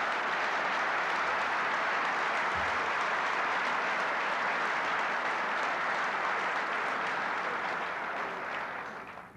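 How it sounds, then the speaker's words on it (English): Sustained applause from a large lecture audience, a dense, even wash of clapping that holds steady for several seconds before tapering off at the end. "Would you please join me in a round of applause?"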